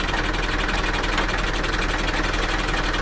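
A tractor engine runs steadily at idle just before a cultivator is hitched, with a constant close, loud rumble and even throbbing that stays alone, with no talking.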